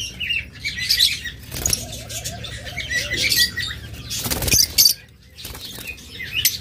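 Pet budgerigars in a cage burst into loud, close wing flapping several times, mixed with sharp chirps and tweets. A brief warbling call comes between the flutters.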